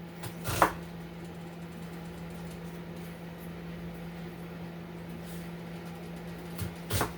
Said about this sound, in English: I'm just gonna cut this into not super thin slices